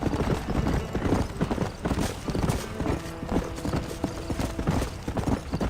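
A horse galloping in Red Dead Redemption, steady rhythmic hoofbeats close by and moderately loud, clip-clopping over the ground, with a faint neigh and no talk.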